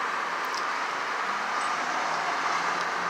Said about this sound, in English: Sorry about the road noise, can't do a thing about it.